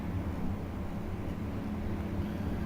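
Engine of a cruiser in the naval combat game Cruiser Clash on the Ironsides ship, a steady low droning hum with tonal rumble, constant and moderately loud, no talking.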